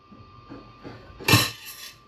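Plates, cutlery and pots clink together briefly in a rented apartment kitchen, with a few light knocks building to one sharp, close ceramic-and-metal clatter and then a softer rattle.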